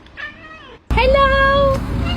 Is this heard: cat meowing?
yes